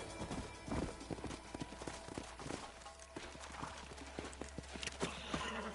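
Horse hooves clip-clop in the video game Red Dead Redemption, a continuous run of hoofbeats at a walking pace, fairly faint and steady throughout.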